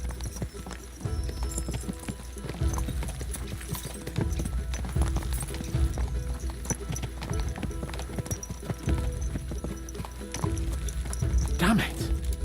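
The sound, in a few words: horses galloping, from the video game Kingdom Come Deliverance II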